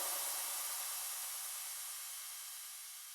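A synthesized crash cymbal with reverb and ping pong delay, a bright hissing wash already ringing that thins and decays steadily, alone.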